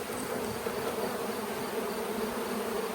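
Honeybees swarm around an opened backyard homestead hive with brood and a laying queen inside, giving a steady, dense, close buzzing drone that holds without a break and turns agitated, with no talk over it.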